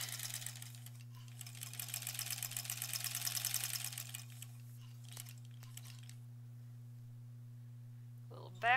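A sewing machine stitches a lined zipper pouch shut in a quick rapid burst lasting a few seconds. Quieter handling noises follow and a brief voice enters at the very end.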